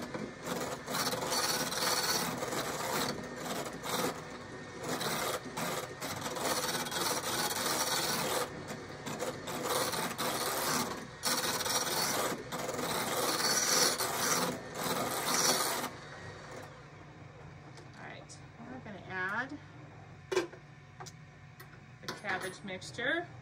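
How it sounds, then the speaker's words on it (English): Electric hand mixer whipping boiled potatoes for colcannon, a steady loud whirring grind close by for most of the stretch, then cutting out to quieter scraping and bowl handling. "I'm gonna use my mixer just to mix the potatoes here."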